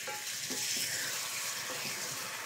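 Chicken liver adobo with vinegar fries in a pan over low heat, giving a steady close hiss with a few light stirring scrapes, moderately loud and without talk.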